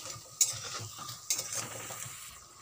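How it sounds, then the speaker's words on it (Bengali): Rasbora dumplings deep-frying in hot oil, a close, crackling sizzle with two sharper clinks and scrapes as they are turned in the pan, no talking. "আমি সব বড়াগুলোকে লাল লাল করে ভেজে নেব।"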